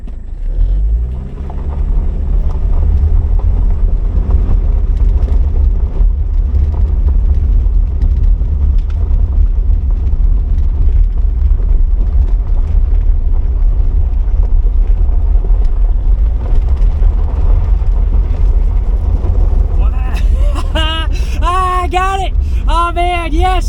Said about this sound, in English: That's the first time I've gotten this car to do a little bit of a skid.